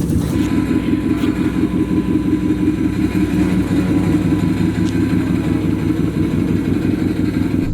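A car engine running with Mountain Dew used in place of coolant, a loud, steady near idle with a constant low rumble and slight roughness throughout, no talk.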